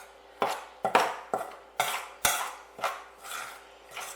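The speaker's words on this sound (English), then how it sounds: "we want to mix it through by just chopping it with a knife" A knife chops through a milk and flour dough mixture in a bowl for a chicken pot pie crust, giving eight or nine sharp clinks and thuds against the bowl at a steady, slightly uneven rhythm, close and clear with no talking.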